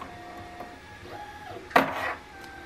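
A Tetrix PRIZM robotics battery pack is pushed into its connector, giving one short, sharp click-clack burst near the end over a quiet, faintly humming room.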